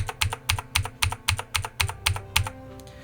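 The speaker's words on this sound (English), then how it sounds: "then we'll move ahead using our arrow keys 10 frames" Arrow keys on a computer keyboard tapped in a steady, evenly spaced series of about ten crisp clicks while stepping through frames in video editing software, close and clear.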